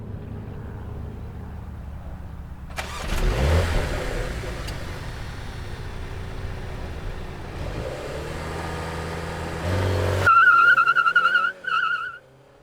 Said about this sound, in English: the exhaust starts popping like it's had too much espresso